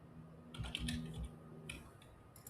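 Quiet keystrokes on a computer keyboard, a short cluster of taps in the middle followed by a few lighter clicks, faint and close with a low background hum.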